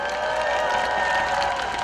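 A crowd at a Daejeon citizens' rally applauds a university alumni singing group after their spirited performance, a steady, dense wash of clapping with some cheering, even and sustained throughout, no one speaking over it.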